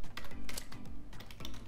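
Close, quick keystrokes on a computer keyboard, a rapid run of sharp clicks with a few slightly heavier presses, short and crisp with no talking.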